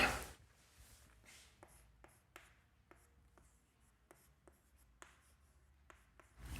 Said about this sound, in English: I am going to straight away write here